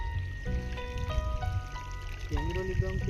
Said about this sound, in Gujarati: આમ અમારે ઈંટોનું પાણી પાવું પડે છે.